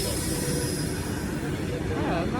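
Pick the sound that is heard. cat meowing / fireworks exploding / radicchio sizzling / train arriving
train arriving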